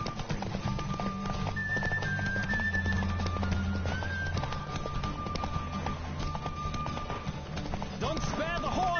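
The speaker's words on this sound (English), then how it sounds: "Don't spare the horse!" Hooves pound in a fast, steady gallop during a horse race in the video game The Witcher 3, close and continuous, with a whinny near the end and talk over the hoofbeats.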